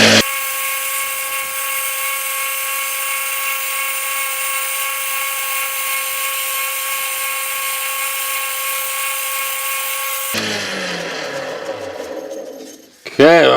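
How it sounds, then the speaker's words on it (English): A power sander works a handmade wooden pizza cutter at 150 grit, giving a steady high whine that runs for about ten seconds and then breaks into rough, scraping bursts as it winds down. "And I'll sand from a 150 grit down to a 600."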